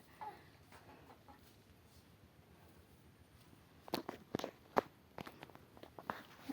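Faint clucking from a few chickens in a village yard, with scattered footsteps and light scuffing growing louder toward the end.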